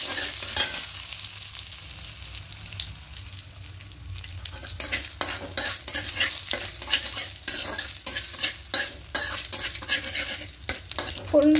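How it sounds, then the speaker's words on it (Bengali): Bay leaves, dried red chilies and mustard seeds crackle in hot oil in a pan, a close, busy sizzle with repeated spatula scrapes and clinks that grow denser toward the end, no voices. "2টো তেজপাতা দেবো আর 2টো শুকনো লঙ্কা দেবো। দিয়ে একটু হালকা করে ভেজে নেব।"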